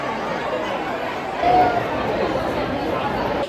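Crowd chatter fills the grounds of the Swami Samarth temple at Akkalkot, a steady, diffuse murmur of many voices at moderate distance with no clear single speaker.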